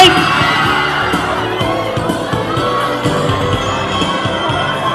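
A live audience at a promotional event cheers and shouts to welcome guests on stage, a dense crowd roar that swells at the start and carries on steadily, loud and near, with voices mixed in.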